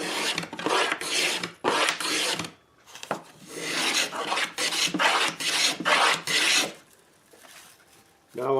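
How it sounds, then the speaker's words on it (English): Back braces of a pre-war-style Martin Dreadnought acoustic guitar shaved down by hand, heard as close, rhythmic rasping wood strokes in clustered runs, separated by brief pauses. "Now I'm shaving down the back braces, get them to the heights I need before I glue the back on."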